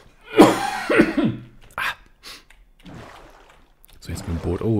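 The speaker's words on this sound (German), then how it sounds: "Oh je, ich muss mal kurz husten." A person coughs several times in a short burst, close and loud, with a throat-clearing sound and then speech following during a relaxed Minecraft gaming session.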